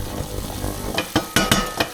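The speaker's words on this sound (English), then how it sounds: "I keep on stirring, so I'm sure that it doesn't stick." A spoon stirs and scrapes a sizzling pan just after liquid goes in, over a steady close frying hiss with several sharp metallic scrapes in the second half.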